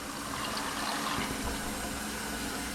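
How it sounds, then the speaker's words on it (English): Tap water runs steadily into a cooking pot for a vegan Sunday dinner, a continuous rushing, splashing pour that stays close and fairly loud for the whole stretch, with no voice over it. "I'm just using regular old tap water."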